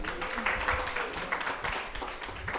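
A pop-up shop audience applauds a woman, giving dense, sustained clapping from a gathered crowd that stays fairly even throughout with small swells.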